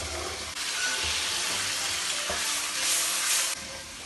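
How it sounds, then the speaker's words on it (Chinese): Marinated pork ribs pan-frying slowly over low heat, a dense continuous sizzle and crackle of oil, loud and close, with slight swells as the pieces settle. "用小火把这个排骨两边给它煎到金黄"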